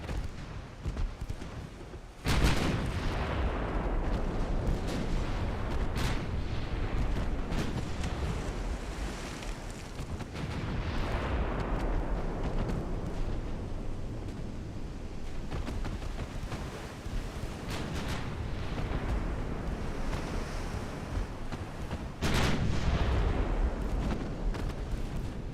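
Naval shellfire from the warship game Ultimate Admiral Dreadnoughts: sharp booming gun reports at intervals over a continuous roar of sea, wind and surf, with a heavy salvo near the start and another toward the end.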